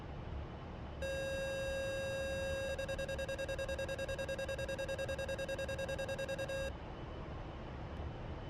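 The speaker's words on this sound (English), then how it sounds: "Pull up, pull up. Altitude, altitude. Pull up, pull up." A cockpit warning alarm in the DCS flight simulator sounds as a loud, steady electronic tone that shifts into rapid pulsing beeps for several seconds before cutting off abruptly.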